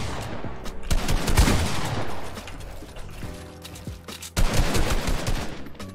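In a Fortnite box fight, shotgun blasts and weapon clatter fire in dense, loud bursts, with a lull and reload-like mechanical clicks partway through, and no voice over the gunfire.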